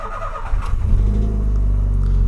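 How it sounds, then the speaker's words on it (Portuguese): A Volkswagen Polo with a sport exhaust, running on ethanol, cranks and fires up: a brief starter whir gives way to a deep, loud, steady idle rumble close by, with no talk. "Vamos dar a primeira partida da manhã de domingão"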